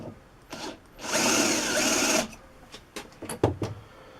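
A drill spots a mark into a metal part for a rotary table pivot, one steady whirring burst of about a second near and fairly loud, followed by a few light clicks and knocks.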